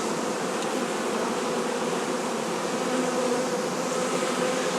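A bee swarm moving into a hive on its own, a dense, steady buzzing drone of many insects that stays loud and continuous throughout with no voices.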